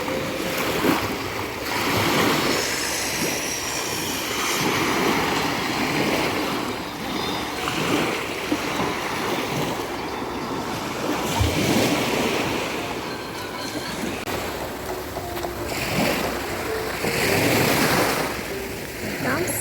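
Sea waves roll and wash onto Maly Fontan beach in Odesa in a continuous surf roar that swells and recedes over many seconds, with wind buffeting the microphone.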